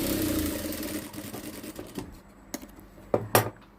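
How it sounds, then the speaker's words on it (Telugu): Sewing machine stitching a dotted line on blouse fabric: a fast mechanical whirring run, fairly faint and close, followed by a few separate clicks and clacks as the stitching stops. "మనం ఈ డాట్ కుట్టే లైన్లో ఇలా పార్ట్ మీద నిలువుగా కుట్టేసుకోవాలి"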